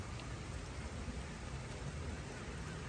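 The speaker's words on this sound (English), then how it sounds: "We'd call this a light rain for sure" Light rain falls steadily in a soft, even hiss with no breaks, quiet and continuous, with no voices.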